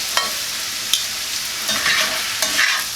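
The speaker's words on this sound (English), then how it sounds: "Give it a nice little stir." Finely seasoned meat sizzles steadily in a hot pan while a utensil stirs it, giving a constant bright frying hiss with a few light scrapes and taps, close up and without talk.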